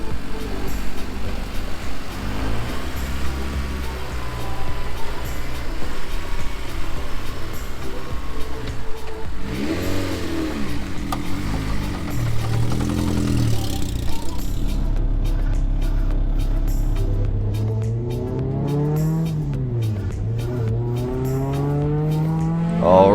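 A touring-class race car at speed on a circuit, heard as a loud, close engine that revs up and down through gear changes with rising and falling pitch sweeps and passing drones, no speech.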